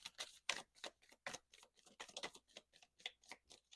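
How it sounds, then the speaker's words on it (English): A deck of tarot cards is shuffled by hand, giving quick, rhythmic riffling bursts in steady succession, close and fairly crisp, with no voice over it. "I'm going to shuffle 3 times, and those cards that come out are what wants to come out"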